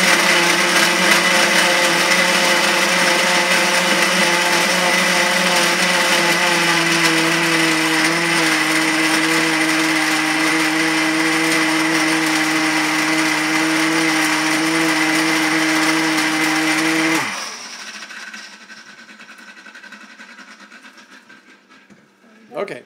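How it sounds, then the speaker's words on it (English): Blender whirring loudly and steadily while mixing a dairy-free date shake with bananas, then shutting off abruptly, leaving a quiet room with a faint knock at the end. "thank you guys for being patient while the blender is going there"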